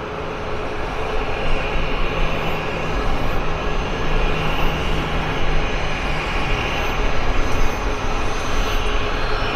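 A jet airliner passing at Vancouver Airport, a loud, steady broadband engine roar that holds throughout without fading.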